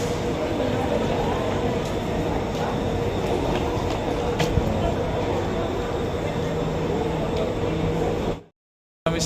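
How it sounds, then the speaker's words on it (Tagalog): A train ride at Tanah Merah, Singapore, heard from inside the carriage as a steady rumbling roll with faint clicks, ending in a sudden cut to silence near the end. "Kami sinakyan na tren."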